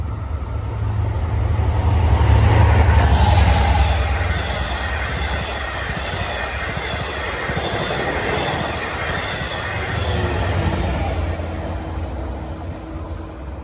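A Long Island Rail Road train approaching Forest Hills station at rush hour, a loud steady rumble of wheels on rail with a deep low roar that swells early, faint squeals and clacks throughout, no voices.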